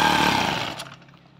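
A grass cutter's small two-stroke engine, just repaired with a new clutch shoe, is switched off: the loud close buzz holds, then winds down and dies into quiet within about a second.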